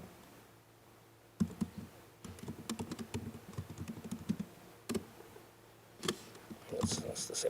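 Someone types a command on a computer keyboard, quiet close-up clicks in quick irregular bursts with short pauses between runs of keystrokes.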